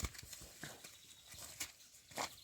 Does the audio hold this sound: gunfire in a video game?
no